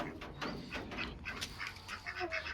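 Pekin ducks on a farm quacking steadily in a noisy flock, calls overlapping throughout at moderate loudness with no one talking.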